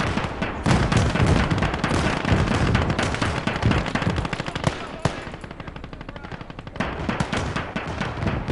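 Machine gun fire in the World War II game Gates of Hell, dense rapid bursts and scattered gunshots crackling continuously at close range, with other battle noise layered underneath.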